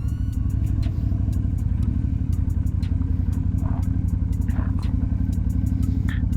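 A 2001 Yamaha Dragstar 250 motorcycle engine idles while warming up with the choke on, a steady, close, low-pitched putter with light mechanical clatter throughout.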